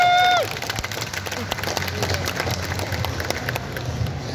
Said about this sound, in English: And so I think a round of applause for everybody here.